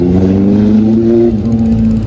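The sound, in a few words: Ducati motorcycle engine passing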